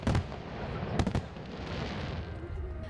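Fireworks burst at the 2014 Incheon Asian Games closing ceremony in a stadium, a few sharp booms breaking through a steady wash of distant crackling and crowd noise.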